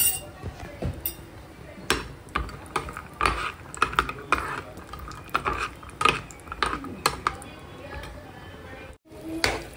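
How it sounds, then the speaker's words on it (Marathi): Repeated clinks and scrapes of a utensil stirring cashews frying in a pan, irregular and close, over a low sizzling background with occasional talk. "आता मी ते थोडंसं काजू फ्राय करून घेते आणि टाकून देते"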